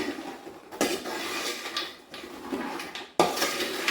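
A utensil stirring a sticky jaggery mixture with sugar and dry ginger in a metal pan for sharkara varatti, with close scraping and clattering strokes in bursts, a brief pause, then a louder scrape.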